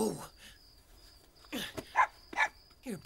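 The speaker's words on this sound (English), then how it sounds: "Now stop barking." A dog barks in several short, separate bursts at moderate volume, mixed with whimpers, in a gap between spoken lines.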